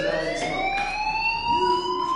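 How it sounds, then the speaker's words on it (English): Fire alarm blaring in the video game Life Is Strange, a continuous rising electronic tone with steady harmonics, loud and alone with no talking over it. "do you hear that fire alarm?"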